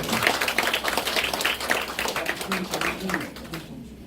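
Audience applause at a certificate ceremony for a temple food course at Hwaeomsa Temple, Jirisan, brisk clapping from a modest group, moderately loud, fading out near the end.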